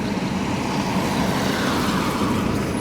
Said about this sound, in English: So all that tyres and tarmac.